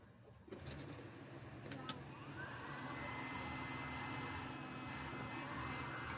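A few clicks, then a small motor whirs up and holds a steady, low droning hum like a little handheld vacuum running nearby.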